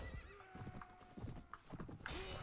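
Horses in the medieval combat game Prophesy of Pendor, with rapid clip-clop hoofbeats and a whinny in a busy battle mix, fairly faint with scattered impacts.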